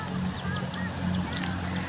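Close, continuous clucking and low calls from a hen with a single chick, faint higher peeps mixed in, steady throughout.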